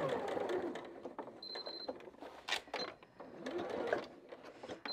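A sewing machine stitches a quilted table runner in short, close bursts of rapid mechanical whirring, separated by brief pauses and small clicks.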